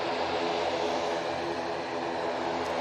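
An Aer Lingus propeller airplane at Manchester Airport gives off a steady, loud broadband roar and propeller drone. The noise stays constant throughout, with no speech over it.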